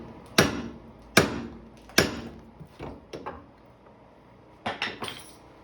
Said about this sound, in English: Sometimes you don't have to press them out. You just get them with a good hammer blow.